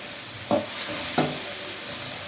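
Tomatoes are stirred into sautéed onions in a pan, a steady close sizzle broken by two distinct scraping stirs of the spatula about half a second apart.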